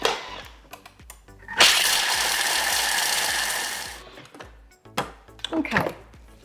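Food processor blade spinning at speed 9 to grate chocolate, a loud burst of about two and a half seconds that stops abruptly, framed by clattering and handling noises.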